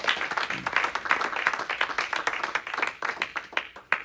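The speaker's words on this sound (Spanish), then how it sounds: "No sé si le dan un fuerte aplauso al Espíritu Santo de Dios." A church congregation breaks into applause, individual hand claps loud and distinct in an uneven but lively rhythm, close by and unbroken across the whole stretch.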